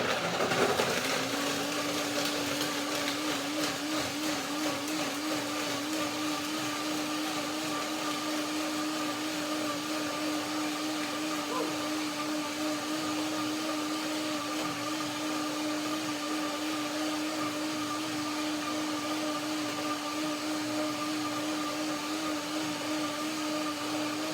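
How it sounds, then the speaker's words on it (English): A blender blending macadamia nuts and water runs steadily at high speed, a loud continuous whir with a constant motor hum that starts abruptly and holds without pause. "that is the first blending only, especially with the macadamias."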